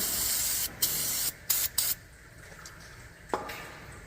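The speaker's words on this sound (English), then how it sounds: "you can hit this with a little cleaner, Maxima contact cleaner, just to clean this up" Maxima contact cleaner hisses from an aerosol can in several short bursts, close and crisp, followed by quieter handling noises and a small knock near the end.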